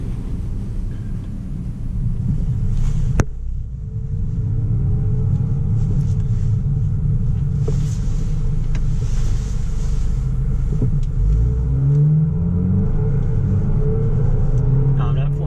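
Steady, deep engine and road rumble inside a 2014 Buick Regal GS AWD accelerating moderately without high revs, continuous and fairly loud throughout.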